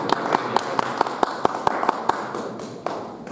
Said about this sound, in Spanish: les pido un fuerte aplauso, por favor